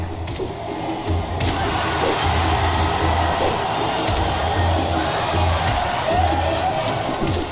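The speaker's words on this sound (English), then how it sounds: "But listen to the cheering." Crowd cheering in the Colosseum arena of the video game Hollow Knight, a continuous roar of distant voices at moderate level with occasional low thumps, heard alone without talk.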